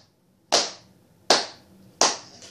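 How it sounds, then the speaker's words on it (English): Three single loud hand claps spaced roughly evenly apart, each sharp and close with a short ringing decay, surrounded by quiet. "Come on, clap, clap."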